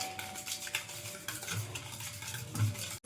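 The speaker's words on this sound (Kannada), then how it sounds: "ಈ ಥರ ಒಂದು ವಿಸ್ಕರ್ ತೊಗೊಂಡು ಚೆನ್ನಾಗಿ ಮಿಕ್ಸ್ ಮಾಡ್ಕೊಳ್ಬೇಕು" Sugar, ghee and oil are whisked together for plum cake batter, a steady close swishing and scraping of the whisk in a bowl with a faint constant hum underneath, no voices.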